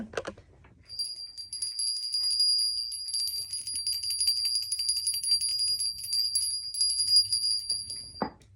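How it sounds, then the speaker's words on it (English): A bell rung repeatedly in a sustained, shimmering ringing run for about seven seconds, with a brief pause partway through, clear and prominent in a quiet indoor room, with faint sounds at the start and end. "I need to ring a bell"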